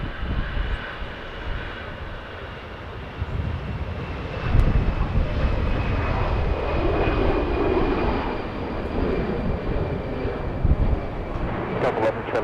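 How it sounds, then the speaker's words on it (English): Delta Airbus A319 jet departing Los Angeles International Airport, a sustained engine roar that swells midway and stays strong with some wind buffeting, heard from a distance. "That's an Airbus A319 getting a move on."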